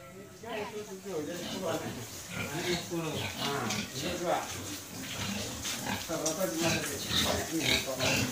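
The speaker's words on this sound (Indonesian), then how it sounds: "Ini ada babi kampung juga." Village pigs on a small urban farm in Pontianak, Indonesia, grunting and oinking continuously up close, a dense rhythmic chorus of snorts with people talking over it.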